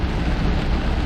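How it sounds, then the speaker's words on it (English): Heavy rain pours down steadily outdoors, a dense broadband hiss with a low rumbling undertone and no talking. "Now it's raining. I paused Uber Eats because of how hard it's raining."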